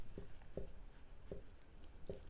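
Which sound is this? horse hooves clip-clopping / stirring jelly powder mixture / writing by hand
writing by hand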